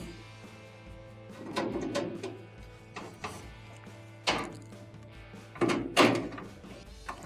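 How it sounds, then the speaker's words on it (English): Wiring is pushed through strain reliever bushings with needle nose pliers, giving scattered close clicks, thunks and brief plastic scrapes over a low steady hum, without speech. "Just pinch them with your needle nose pliers and start to push it through."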